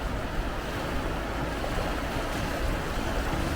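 A strong river current in the Pamir mountains of Tajikistan roars in a dense, continuous rush, loud and close, with some wind buffeting mixed in.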